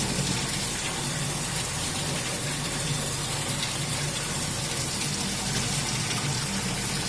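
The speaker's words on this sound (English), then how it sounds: "the water is pouring here" Water rushing steadily through a Bernoulli theorem test apparatus, a loud, continuous broadband gushing with no pauses or voices.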